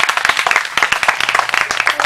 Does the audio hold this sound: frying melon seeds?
no